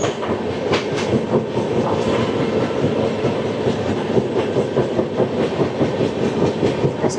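Passenger train running steadily on rails, as heard from aboard a Garib Rath Express from Agartala to Kolkata, with a loud continuous rumble and regular clickety-clack of wheels over rail joints.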